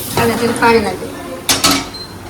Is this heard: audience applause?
no